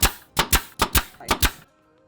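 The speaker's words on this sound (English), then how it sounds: "I'm going to come across and staple." Upholstery fabric is stapled onto a wing back chair frame, six or seven sharp, loud staple-gun snaps fired in quick succession, then quiet.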